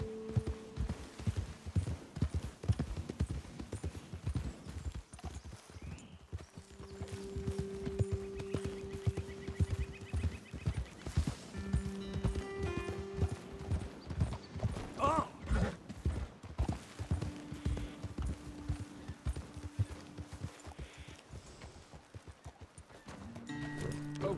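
Horse hooves clip-clop in a quick, uneven trotting rhythm, with occasional creaks and a brief whinny mixed in; no voices, in Red Dead Redemption 2.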